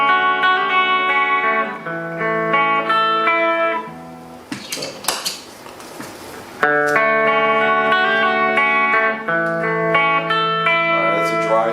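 A guitar played through a dry signal with no reverb pedal, with clear sustained notes and chords, a short scratchy, noisy stretch in the middle, then ringing notes again.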